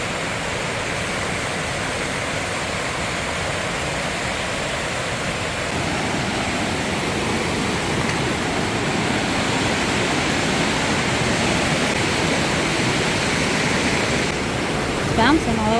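A creek beside the Pacific Crest Trail rushes steadily, a dense, continuous wash of flowing water heard up close and loud throughout, with no voices over it.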